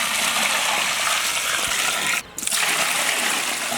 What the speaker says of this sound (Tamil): அதுக்கேற்ற மாதிரி தண்ணி ஊற்றிக்கிறேன்.